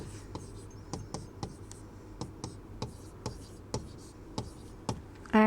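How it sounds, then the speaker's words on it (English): Pen writing out chemistry redox reactions: quick scratchy strokes and taps on paper, close and clear in an irregular rhythm over a steady background hiss, with no talking. "let me write down these reactions."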